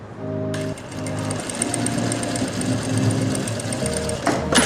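A sewing machine stitches a salwar, running steadily and loudly for several seconds with a brief change in pitch near the start and a short pause near the end.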